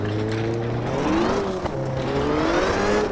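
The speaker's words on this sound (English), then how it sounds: "The skid sounds tend to continue even when you've stopped skidding." Car engine drone and tyre noise from the Richard Burns Rally sim, a steady, loud rumble with a wavering pitch that holds for several seconds and has a brief dip midway.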